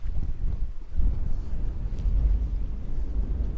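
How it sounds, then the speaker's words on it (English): Breeze buffeting a microphone aboard an anchored boat, a continuous low rumbling wind roar that surges and eases throughout, close and fairly loud, with no speech. "you can tell it's a little breezy"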